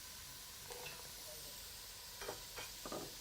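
Chopped zucchini, carrot and other vegetables hit a hot minestrone pot with a faint, brief sizzle, a few soft crackling bursts over a quiet hiss.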